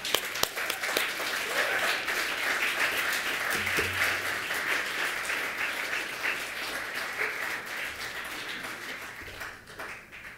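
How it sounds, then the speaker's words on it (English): An evening audience at an MFA writing thesis reading applauds the final reader, a dense, continuous wash of clapping that holds steady for about ten seconds and thins slightly toward the end. "So please applaud our final reader this evening"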